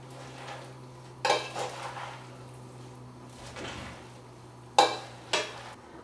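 Arugula salad being tossed with salt and extra virgin olive oil in a bowl: a few brief rustling, clattering tosses spaced a couple of seconds apart, close and fairly soft over a steady low hum.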